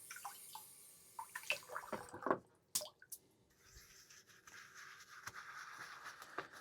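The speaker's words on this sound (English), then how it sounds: "I'm going to lather right off the tub." A shaving brush works soap lather in a tub close by, giving soft wet squishes, drips and swirling strokes in uneven bursts, with a few sharper taps and no one speaking.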